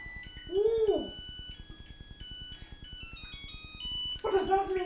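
A rice cooker plays its chiming electronic melody to signal the rice is ready, a steady sequence of bright tones in a kitchen, with a voice breaking in at the start and end.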